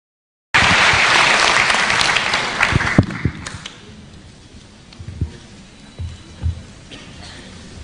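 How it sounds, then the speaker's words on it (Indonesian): An audience at a campus event at Unpar with Ganjar applauds loudly, starting abruptly as a dense burst of clapping that thins out over several seconds into a few scattered claps. "Sekali lagi tepuk tangan yang meriah untuk Pak Ganjar."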